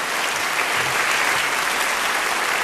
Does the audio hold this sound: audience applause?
yes